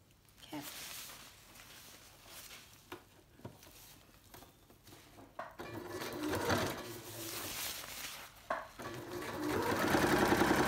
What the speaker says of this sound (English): Now we're going to sew across the top fabric.